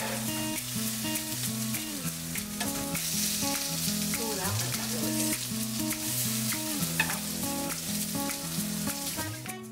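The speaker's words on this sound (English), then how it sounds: "I browned off the shrimp cakes in a pan." Thai shrimp cakes sizzle and crackle steadily in a pan, a close, constant frying hiss heard beneath background music.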